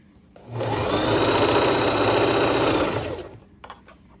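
A sewing machine stitches fabric for a one-piece garment in one steady, loud burst of about two and a half seconds, with a brief quiet start and a small clatter after it stops.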